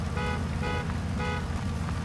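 A truck horn in Spintires MudRunner honking in a few short repeated blasts over a low rumbling engine, fairly close.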